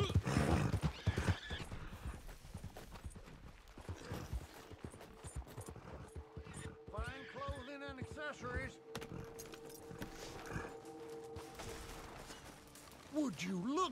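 Horse hooves clip-clopping in the video game Red Dead Redemption 2, steady soft hoofbeats with a whinny and game effects, under someone talking.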